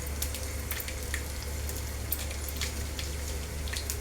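Dry red chillies and garlic sizzle in hot tempering oil for a jamakaya (guava) pachadi, giving a steady close crackle with bright pops throughout.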